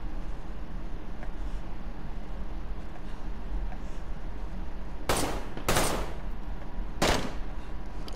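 Sniper rifle shots in the video game DayZ: three loud, sharp cracks, two in quick succession and a third a moment later, each with a short tail, over a steady low ambient hum.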